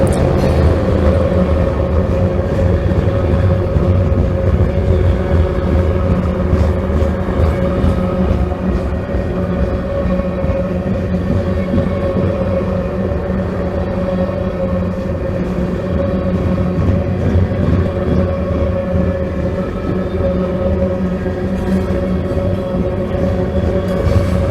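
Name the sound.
train passing by, wheels rolling on rails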